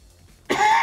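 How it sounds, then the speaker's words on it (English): A single short, harsh cough bursts in after a quiet moment, close to the microphone and fairly loud, from someone on a live stream who keeps coughing. "Sorry, I really can't stop coughing at the moment."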